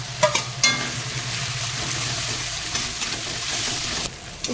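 Black pepper, cumin, chilli, coriander and Kashmiri chilli frying in oil in a pan for a prawn jhaal, a steady close sizzle with a couple of sharp clacks early on, no talking.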